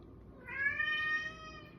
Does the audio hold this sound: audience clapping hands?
no